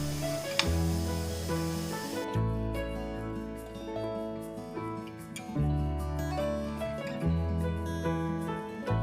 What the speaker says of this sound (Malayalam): നമ്മളുടെ കുക്കറിൽ നിന്ന് ആവി വരുന്നുണ്ട്.